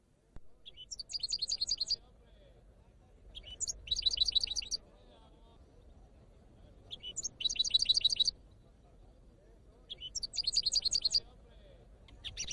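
Goldfinches in a songbird singing competition, giving four separate bursts of bright twittering song with quiet gaps between them.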